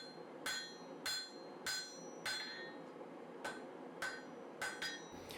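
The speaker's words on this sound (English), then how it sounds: "So I began by forging this stub out to the same width as this small piece of blue steel." Hammer blows ring sharply on a Damascus steel stub being forged out, about ten evenly spaced metallic strikes with brief ringing tails, close and clear with no talk.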